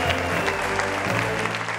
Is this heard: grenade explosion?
no